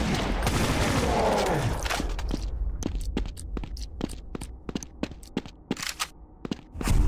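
A pistol fires in the Brutal Doom mod for Doom, first as a dense burst of blasts, then as a quick series of sharp, evenly spaced single shots, loud and close, with no talk.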